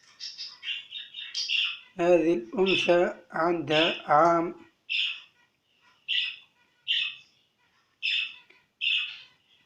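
Budgerigars chirp in a repeated series of short, bright calls spaced about a second apart, close and fairly loud; someone speaks over the first part of the chirping.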